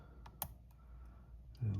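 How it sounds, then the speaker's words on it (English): A faint, tiny click as a pick sets a pin inside an Abus Silver Rock lock, one or two soft ticks over quiet background hiss. "And it looks like we got 1 click."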